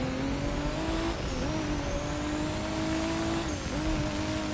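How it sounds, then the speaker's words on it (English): Race car in The Crew 2 accelerating hard on nitro, its engine note climbing and dropping through quick gear shifts over a constant loud roar of road and wind noise. "let's bring out the nitro to go overtake at the right side of the road."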